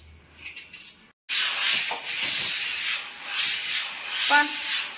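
Steam hisses loudly in waves from a pot of egg biryani being cooked, a broad rushing hiss that swells and eases repeatedly after a short quieter opening with small clinks.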